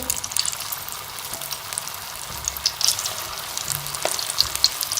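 Matar koftas frying in oil with onions, a steady close crackling sizzle with small pops and occasional stirring sounds.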